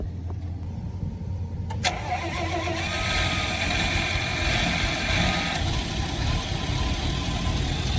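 A Dodge truck engine cranking and catching after a roadside repair, a brief starter grind followed by the engine firing up and settling into a steady mid-pitched idle, close and fairly loud.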